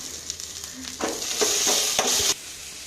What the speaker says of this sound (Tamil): வெள்ளைப்பூடு, இஞ்சி, வெங்காயம் வதக்கணும்.